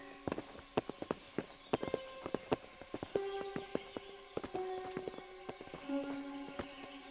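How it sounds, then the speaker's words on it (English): Horses' hooves clop on the ground in the medieval video game Kingdom Come: Deliverance, a string of sharp, fairly close steps in uneven rhythm, with faint tonal game sounds behind and no talk. "Bring the horses."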